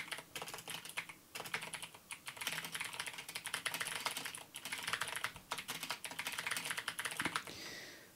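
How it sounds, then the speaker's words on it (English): Rapid clattering keystrokes on a computer keyboard during a Frozen Synapse 2 session, a dense, continuous run of close taps for several seconds with brief pauses and no voices. "just clatter away on my keyboard briefly while I make a note of that"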